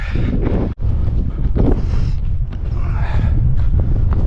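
Strong wind buffeting the microphone on a cold, wet mountain hike near Ulriken and Vidden, loud continuous roaring gusts with a brief drop partway through.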